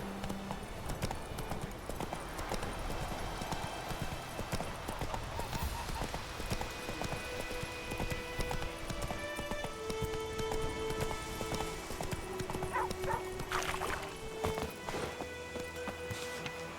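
Horse hooves clip-clop steadily over a dense, busy background with music-like tones and some voices, the rhythmic hoofbeats running throughout at moderate loudness.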